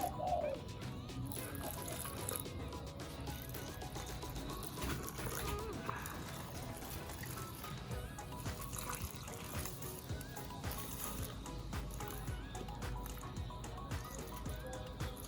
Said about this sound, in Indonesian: kita siram sedikit dengan air di sini